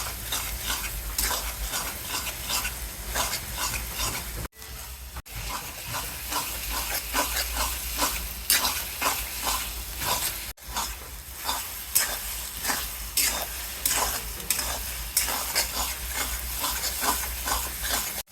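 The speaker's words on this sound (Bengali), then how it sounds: "এখন এইভাবে নেড়ে নেড়ে জলটা শুকিয়ে নেবে" Taro greens stirred in a pan as their water cooks off, with continuous close sizzling and frying hiss broken by repeated scraping stir strokes and brief pauses.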